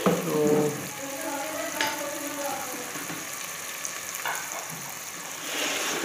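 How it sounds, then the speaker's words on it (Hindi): Onions fried with tomato and green chili in a pot for a village-style chicken and potato biryani, giving a soft, steady sizzle with faint stirring scrapes and no talking. "तो प्याज फ्राई होने के बाद इसमें टमाटर और हरी मिर्च डालेंगे और इसे थोड़ी देर तक के लिए पकाएंगे"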